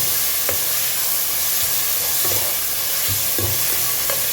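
Onions for a mutton and bottle gourd gravy sizzling in hot oil, a dense continuous hiss with occasional soft stirring knocks, close and fairly loud, no voices.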